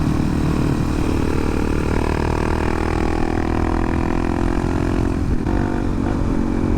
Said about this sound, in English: Nice Camaro. I like a good old white Camaro.